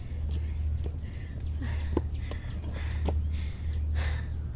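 Heavy, rhythmic panting of a person hiking uphill on a mountain trail, breaths rising and falling close to the microphone over a steady low rumble of wind or movement.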